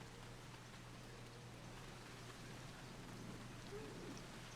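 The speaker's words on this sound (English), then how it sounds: "Oh wow, it's raining in Drybone." Steady rain falling in Final Fantasy XIV, a soft, continuous hiss of drops on surfaces with a low hum beneath, faint and unbroken throughout.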